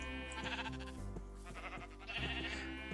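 Blocky sheep bleat in the video game Minecraft, with several wavering baas over a steady electronic background hum and no talk.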